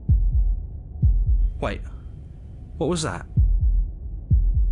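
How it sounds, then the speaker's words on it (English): Game heartbeat effect from Slay the Princess: steady low thumping beats in lub-dub pairs, repeating through the clip over a soft hum, with a voice speaking briefly in the middle. "That was the sound of a heartbeat"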